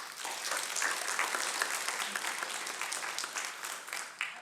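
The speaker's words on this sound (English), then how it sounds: "Let's give them another round of applause." Applause from a lecture audience, many hands clapping in a steady, fairly dense patter that stays moderately loud and even from start to finish, heard from a little distance in the hall.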